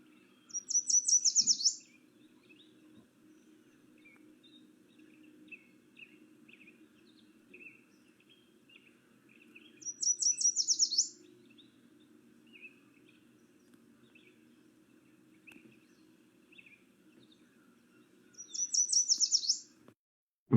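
A yellow warbler sings three short, bright, rising phrases spaced several seconds apart, faint and somewhat distant over a low steady hum of insects in a summer wetland setting.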